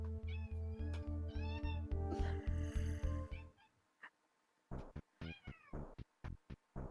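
A cat meows repeatedly and close up, with a run of rising and falling calls, a short pause, then several more quick meows in a quiet room during a livestream.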